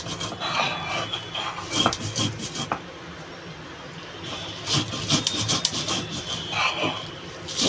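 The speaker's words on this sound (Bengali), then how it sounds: "এই যে সর্ষে এটা আমি শিলে বেটে নেব" Mustard seeds ground by hand on a stone slab (shil) in a home kitchen, heard as rough, rhythmic scraping and rubbing strokes in bursts, with a pause mid-way before the grinding resumes.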